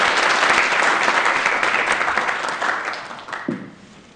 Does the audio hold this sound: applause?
yes